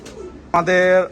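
A single breeder pigeon gives one short, close, resonant coo after a brief quiet moment.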